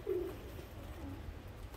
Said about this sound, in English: I like to sit and enjoy my flying birds, sit and enjoy watching my different kinds of breeds